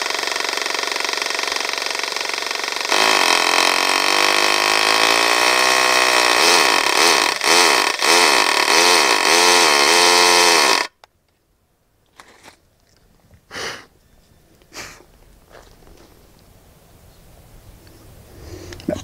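A short 8 mm Parkside SDS bit bores into a reinforced concrete sewer manhole cover, a loud, steady grinding drill roar with pulsing hammer action for about eight seconds, then it stops and faint knocks and handling sounds follow.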